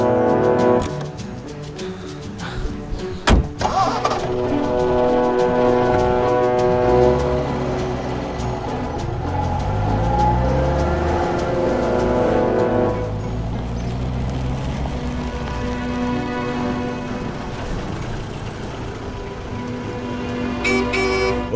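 A car speeds along a village road with its horn blaring in long, loud tones, the engine roaring close by under a steady wash of rain-like noise, with a sharp bang early on.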